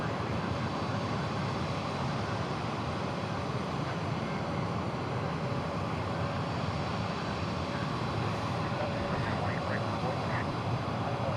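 A jet airliner takes off from runway 18 Right at Dallas/Fort Worth airport, a steady broadband engine roar filling the whole stretch at a constant moderate level with no pause.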